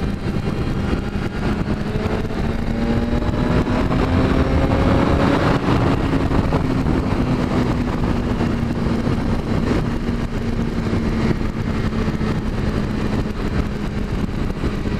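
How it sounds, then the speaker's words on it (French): BMW S1000RR sport motorcycle engine droning steadily, pitch rising then easing back as it accelerates, heard from on board with constant wind roar, no talk. "Quand tu accélères, tu as l'impression que tu vas remonter le temps avec cette moto"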